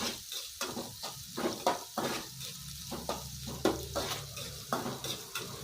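Ginger and garlic frying in oil for a capsicum curd gravy, a close sizzle broken by repeated scraping and clinking of a spoon against the pan in an uneven stirring rhythm, with no voices.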